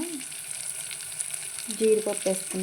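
Cashews fry in a pan of semiya upma with a steady close sizzle, and a voice hums or speaks briefly over it toward the end.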